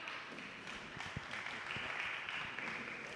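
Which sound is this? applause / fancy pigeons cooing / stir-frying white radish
applause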